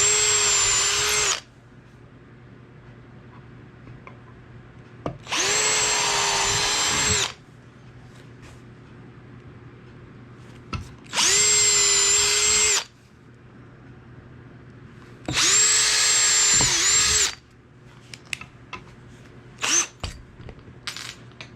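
Power drill with a spade bit boring holes in wood for a spice rack, four separate loud whining bursts of about two seconds each with quiet pauses and small handling clatter between them.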